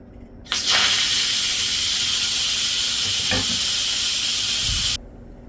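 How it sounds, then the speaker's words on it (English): An Instant Pot pressure cooker venting steam during a pot roast recipe, a loud continuous hiss that starts abruptly, holds steady for several seconds, then cuts off sharply. "I'm going to release the steam"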